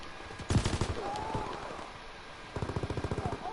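Mortar and artillery fire in a video game, with a burst of rapid booming shots early, a sustained rumble in between, then a long regular string of rhythmic blasts toward the end, close and heavy, with no voices.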